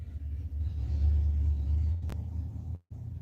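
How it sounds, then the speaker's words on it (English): Heavy truck passing on the street outside, a loud sustained low rumble that swells and holds for several seconds, briefly drops out, then returns. "it's the loudest truck."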